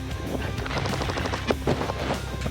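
Airsoft guns fire in rapid, dense bursts during a military assault training drill, a continuous rattle of overlapping shots with a few sharper cracks standing out.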